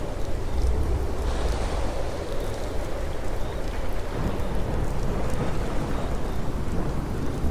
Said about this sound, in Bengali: অঝোরে বৃষ্টি পড়ছে।